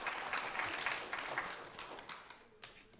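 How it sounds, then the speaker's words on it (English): Audience applause following a seminar talk, a crowd clapping steadily for about three seconds before gradually tapering off, with no voices heard over it. "Give them a hand."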